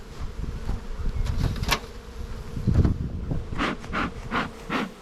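Honey bees buzz around a hive during spring buildup, a continuous close hum with individual insects swelling louder as they pass near, no talking.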